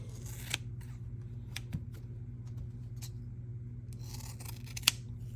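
Serrated shears snipping through material, several crisp close-up cuts and clicks scattered irregularly over a low steady hum, with no talking.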